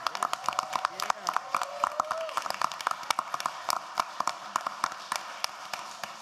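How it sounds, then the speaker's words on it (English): A round of applause at a Tuscaloosa City Schools board meeting, scattered individual claps forming a loose, uneven patter across the room with a voice briefly heard under it. "let's give him another round of applause over there"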